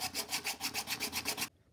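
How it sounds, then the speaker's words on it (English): Rhythmic back-and-forth rubbing of 220 grit sandpaper on a Nerf Jolt blaster barrel, about a dozen quick close strokes over a second and a half, then stopping abruptly into near silence. "I'm going to sand this part down just to make it pretty smooth. I have some 220 grit sandpaper"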